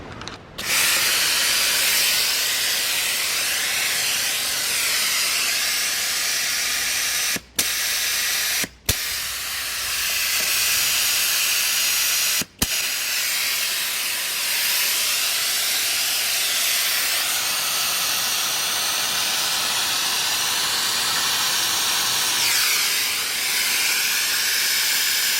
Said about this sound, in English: the valve is not closing, so a lot of air is leaking through it